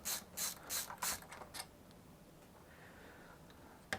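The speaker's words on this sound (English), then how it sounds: "I have my LTT store screwdriver, ratcheting screwdriver for this." An LTT store ratcheting screwdriver backs out screws from the fan of a PS5 Slim during repair, giving several loud, quick ratcheting bursts in a row, then a quieter stretch of faint clicks with one last sharp tick at the end.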